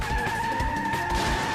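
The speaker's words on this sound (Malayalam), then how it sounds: "ഈ വണ്ടി ബ്രേക്ക് പിടിച്ചിട്ട് നിൽക്കുന്നില്ലല്ലോ." A cartoon car skids with failing brakes, a sustained tire squeal holding steady under engine rumble throughout, loud and close.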